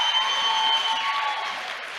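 Audience clapping for the Wakorino All Stars at a youth church service, a steady dense wash of applause held at an even level for two seconds with no voices on top.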